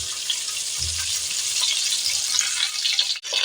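Pointed gourd pieces, potol, fry in oil on a low flame with a little salt, giving a steady, even sizzle that holds throughout with one brief dip near the end.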